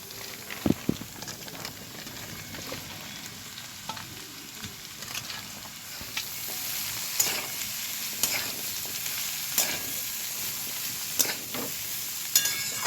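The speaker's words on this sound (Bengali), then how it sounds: "আলু, ফুলকপি আর গাজরটা দেওয়ার পর আমি ভালোভাবে নাড়াচাড়া করে নিয়েছি, হালকা হালকা ভাজা হয়ে এসছে" Potato, cauliflower and carrot pieces fry in a pan with a steady, dense sizzle, while occasional scrapes and clicks of stirring break through.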